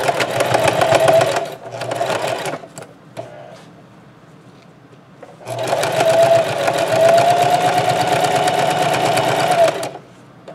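Sewing machine stitching a Dollar Tree lemon placemat tote, two long runs of fast, steady mechanical chattering separated by a quiet pause with faint handling sounds, close and loud.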